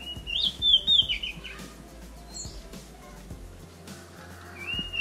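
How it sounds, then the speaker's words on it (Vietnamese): Dozens of caged pet birds at a rural home in Ben Tre chirp and tweet in bright, overlapping bursts close by, with lower rustling and cooing underneath and no talking. "Vô đây là lúc nào cũng có nghe tiếng chim hết"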